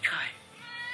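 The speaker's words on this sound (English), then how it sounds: "Silly cat." A cat on a lawn gives a short, close meow that fades quickly, followed by faint background noise.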